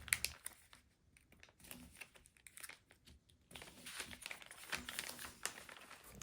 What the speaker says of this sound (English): go ahead and tape this closed.